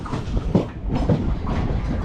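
A train pulls out of Ottapalam railway station with a steady low rumble and faint rhythmic wheel clatter, close and continuous, without voices.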